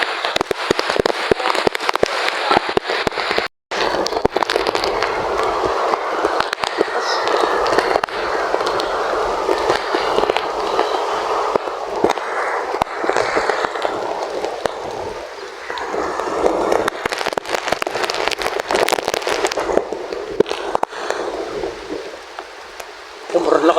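Strong typhoon wind from Typhoon Uwan roars steadily through coconut trees in Biliran, a dense, continuous rushing broken by brief gusty surges and rattling fronds, loud and close for the whole stretch.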